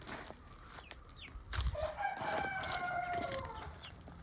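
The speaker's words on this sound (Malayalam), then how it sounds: "പഞ്ചായത്തിൽ നിന്ന് കിട്ടിയ കോഴിയാണ്." Chickens given out by the local panchayat cluck and a rooster crows, close by outdoors, with a drawn-out crow rising over low background noise in the second half.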